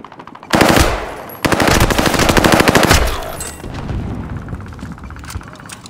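Loud bursts of automatic gunfire from Call of Duty Modern Warfare (2019), two sustained rattling volleys in quick succession followed by a fading rumble and scattered distant shots.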